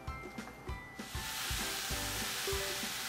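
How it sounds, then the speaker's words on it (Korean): Mixed vegetables stir-fried in an oiled pan for a tomato and spinach frittata, giving a steady loud sizzle with repeated scraping and stirring knocks from a utensil, no talk. "넣어주신 상태에서 채소들이 익을 수 있도록 볶아줄게요."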